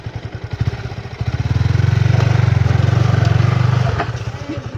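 A Hero XPulse motorcycle revs hard off-road, its engine swelling into a loud sustained roar mid-clip before easing back to a choppy, uneven idle, with clattering throughout.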